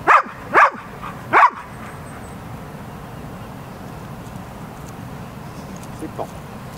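A female dog gives three sharp barks in quick succession during obedience training on a down command, then quiets, leaving faint background noise with a couple of small sounds near the end.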